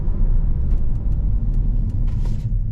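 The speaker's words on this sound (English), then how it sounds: "We're going to get an emergency stop in as soon as we pass the green belt." A 2023 Kia K5 GT with the GT1 Package rolls to an emergency stop, a steady low road rumble and engine drone filling the whole stretch with faint tire and body noises above, no voices.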